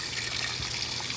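Cold water streaming steadily from a Maytag Atlantis washing machine's fill inlet, a constant close hiss with no talk.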